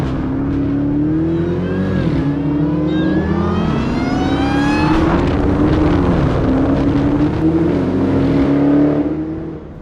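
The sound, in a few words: 2018 Dodge Challenger SRT Demon engine while driving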